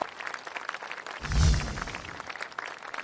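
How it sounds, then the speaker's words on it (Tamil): A studio audience on a Tamil television show claps in a short burst that peaks and fades within a couple of seconds, amid a murmur of background noise. "இந்த கைத்தட்டல கேட்டுக்கிட்டே இருக்கணும்"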